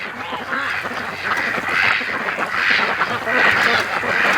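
Ducks being raised by a lake quack loudly and close, a series of rasping calls that come in repeated bursts and overlap one another.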